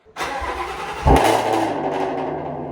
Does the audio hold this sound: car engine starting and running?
yes